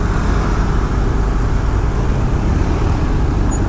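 Congested road traffic in Bali rumbles continuously nearby, a dense steady drone of car and motorbike engines with no voices.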